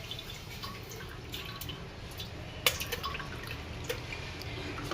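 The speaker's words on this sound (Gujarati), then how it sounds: "આ પાણી ફેંકી દેવાનું, આમાં ખરાબ સુગંધ આવી ગઈ હોય" Soaking water is poured away from soaked lentils, a continuous close trickle with scattered drips and one sharper splash, alone without any voices.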